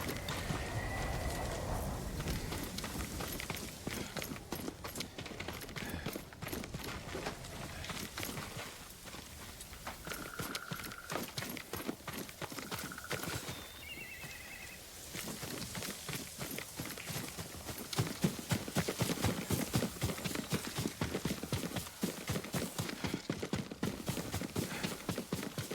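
Rapid rhythmic hoofbeats clip-clop steadily throughout, a horse moving at pace in the video game Ghost of Tsushima, with a few faint bird chirps in the background and no talking.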